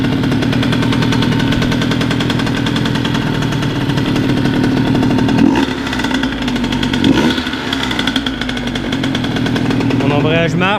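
A Derbi moped with an AM6 engine, newly fitted with a reinforced clutch, runs loud and steady for the whole stretch, a continuous buzzing drone with slight rises in revs toward the end.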